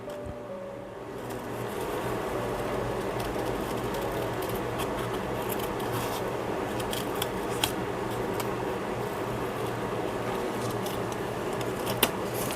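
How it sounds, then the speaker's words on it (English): Scissors snip through paper for an art journal, making faint, sporadic crisp cuts over a quiet, steady room hum with no talking. "I think I have to cut this out so he can sit better"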